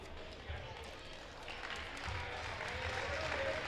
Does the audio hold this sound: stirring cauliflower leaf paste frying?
no